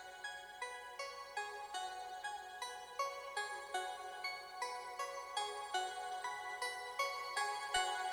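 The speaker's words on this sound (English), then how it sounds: "And the plucks, they fade in nice and quiet." Soft synth plucks play a steady rhythmic pattern of bright repeated notes, each with a quick attack and short decay, staying at a quiet, even level throughout with no other sounds.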